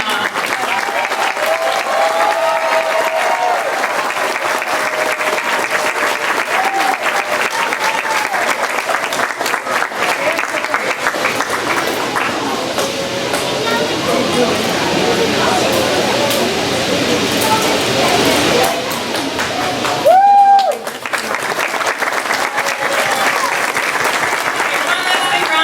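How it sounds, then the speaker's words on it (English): A large elementary school audience applauds loudly and continuously, a thick roar of clapping with crowd noise and a brief sharp whistle or squeal near the end. "One last big round of applause for all of our families and members."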